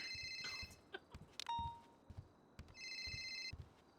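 In-game phone ringing in GTA V NoPixel roleplay, with repeated electronic ring bursts at a steady rhythm, played fairly quietly among soft clicks and game sounds.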